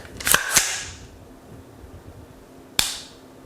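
Two sharp mechanical clicks in quick succession, then a pause and a single crisp click, close and dry with no voices: a LaRue Tactical MBT-2S rifle trigger breaking and resetting.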